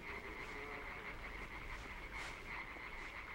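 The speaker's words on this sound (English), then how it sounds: "You hear frogs." Frogs croak steadily in the Limbo video game, a continuous chorus of repeated croaks at moderate distance with no talking over it.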